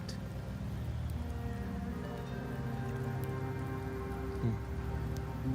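Steady rain falls in the Septimont area of the video game Wuthering Waves, a continuous close patter that runs unbroken through the whole stretch, with sustained tones beneath it.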